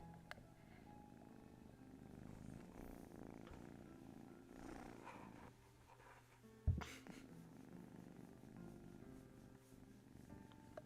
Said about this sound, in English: she's a little purr baby